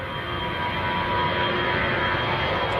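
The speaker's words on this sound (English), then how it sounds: "next aircraft on the roll. This is another EasyJet. This one's going out to Prague." An EasyJet Airbus A320 taking off from Manchester Airport bound for Prague, heard as a steady, loud jet engine roar with broadband rumble and no voices.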